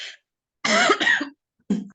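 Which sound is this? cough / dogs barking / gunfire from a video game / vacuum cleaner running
cough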